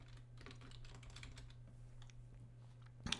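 Quick keystrokes on a computer keyboard while entering a name into an email list form, a light run of taps over a steady low hum, ending in a sharper final click.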